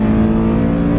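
BMW E92 M3 with a BPM Sport tune revving hard toward 8,000 RPM in third gear, a loud, steady, dense engine drone close up from the cabin, holding a high pitch throughout with no gaps.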